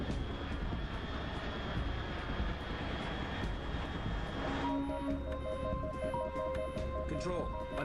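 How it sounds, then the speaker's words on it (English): Aircraft engine drone rumbling steadily overhead in the video game Metal Gear Solid 3, a broad roar that holds throughout while musical tones and game sounds enter over it in the second half. "Control. Unidentified aircraft detected."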